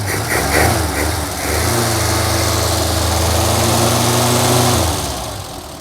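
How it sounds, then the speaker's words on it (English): Small engine revving up from idle, holding a steady raised drone for a few seconds before dropping back, close and loud with a buzzy, vibrating tone. "Let's do one more little rev"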